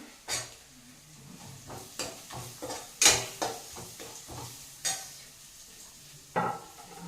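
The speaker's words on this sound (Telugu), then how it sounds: "ఇలా పొడుగా కట్ చేసుకున్న ఎర్రగడ్డలు అయితే యాడ్ చేస్తున్నా" Sliced onions hit a hot pan for egg fried rice, giving a soft sizzle punctuated by spoon or spatula scrapes and clinks against the pan at irregular intervals, with no talking.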